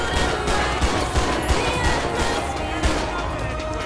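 Rapid gunfire erupts during a GTA 5 LSPDFR police shootout, a dense fusillade of sharp close shots crackling over a few seconds amid background game noise.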